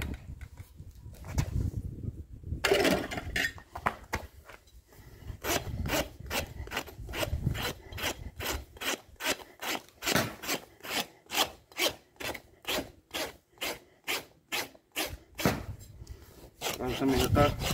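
A farrier's rasp files a horse's hoof, starting with irregular scrapes and then settling into a fast, even run of loud back-and-forth strokes, close up, while people talk nearby in Portuguese.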